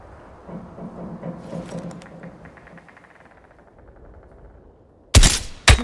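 Gunfire in Call of Duty: Black Ops Cold War during a Soviet Spetsnaz training mission: after several seconds of quiet background game sound, two loud, sharp shots crack close by in quick succession at the very end.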